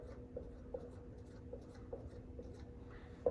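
Music notation written out by hand, faint scratchy strokes and small taps on paper in a quiet room, with no one talking.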